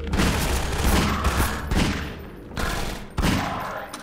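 Rapid gunfire in Half-Life 2: Episode Two, with several loud bursts of automatic fire separated by short pauses, each with booming echoing tails. Close and dominant, with no talk over it.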